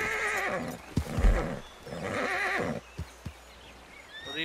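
A horse in the video game Red Dead Redemption 2 whinnies twice in loud, close neighs, with snorts and a few hoof thuds between them, and no talk over it.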